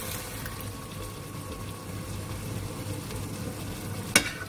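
Diced tomatoes go into a simmering pot of homemade soup seasoned with Mrs. Dash-style seasoning, giving a steady, moderate wet sizzle and bubbling with one sharp clack near the end.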